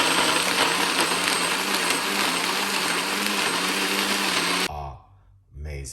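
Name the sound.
blender blending a drink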